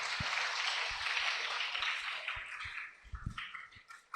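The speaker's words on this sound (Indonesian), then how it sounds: "tepuk tangan dulu" An audience at an Islamic study gathering of boarding-school students in Banyuwangi applauds with a dense wash of clapping that thins into scattered louder claps toward the end, heard at moderate distance without speech.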